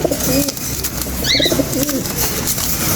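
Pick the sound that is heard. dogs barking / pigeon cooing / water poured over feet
pigeon cooing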